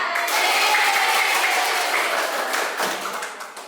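Children in a classroom clap together in a dense burst of applause-like patter that fades over a few seconds.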